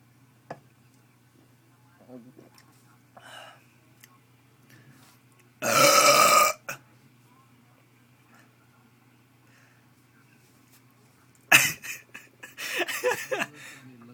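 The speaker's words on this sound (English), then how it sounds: "Almost lost it there because of your burp." Loud, drawn-out burps from people in an online burp contest, two long bursts separated by quiet stretches, with faint background sounds between them.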